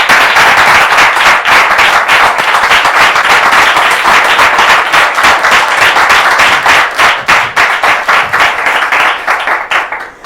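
A studio audience on a French television set claps loudly and densely to welcome a guest, a sustained burst of applause that thins and fades toward the end.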